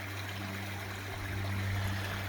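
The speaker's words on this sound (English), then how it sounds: "Got our split waterfall on the shoreline. We call that a shoreline waterfall." A split shoreline waterfall spilling over boulders into a backyard koi pond in Austin, Minnesota, a continuous rushing and trickling flow that stays close and steady throughout.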